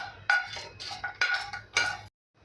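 Whole spices, cloves and green cardamom with nagkeshar, stirred and dry-roasted in a pan for a traditional goda masala, giving several bright clinking scrapes of spoon against metal in close, irregular bursts, then a short silence.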